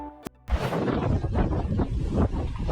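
Strong wind gusts of 50 to 70 miles an hour at the Palisades brush fire roar and buffet loudly against the microphone after a brief click, a sustained rushing noise with surging swells.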